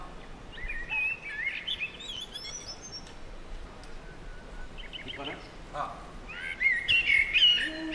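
Birds chirp and tweet from a tree outdoors, bright repeated calls that cluster at the start and again near the end, with one brief voice in between.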